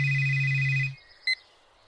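A phone ringtone plays a sustained electronic tone that cuts off just before the one-second mark, followed by a short, faint beep a moment later, with no speech.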